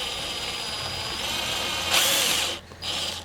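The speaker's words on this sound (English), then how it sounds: "drill some 2 pilot holes" A power drill drilling shallow pilot holes for a shed bolt whirs steadily at close range, rising in pitch as it bites, then briefly cuts out before spinning up again.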